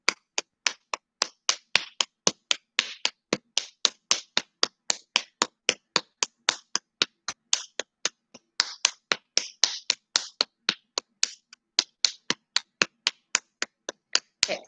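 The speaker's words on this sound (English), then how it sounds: "That sound, you should hear that smack sound, and it might sting a little bit" Hands smack a ball of clay again and again to compact it, a long run of sharp, close slaps in an uneven but steady rhythm with brief pauses, heard alone without talk.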